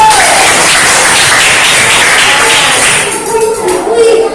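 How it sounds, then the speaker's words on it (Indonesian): Students in a classroom clap their hands together in a loud, close burst of about three seconds that fades into quieter room noise. "beri tepuk tangan dulu"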